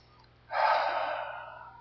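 A deep breath taken during a guided prayer at a church service, one close, airy breath lasting over a second that rises quickly and fades slowly against near silence.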